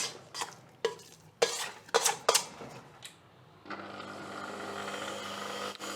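Scraping and clinking as a stand mixer's dough hook is freed and the bowl is scraped during pizza dough kneading, followed by the mixer's steady motor hum running again.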